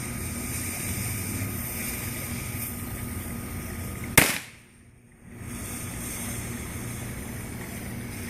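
A firework shot off at a toy army man base gives one sharp close bang, followed by a brief muffled lull, over a steady outdoor background hiss.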